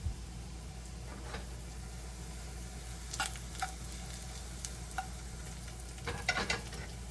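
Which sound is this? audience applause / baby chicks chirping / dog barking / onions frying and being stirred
onions frying and being stirred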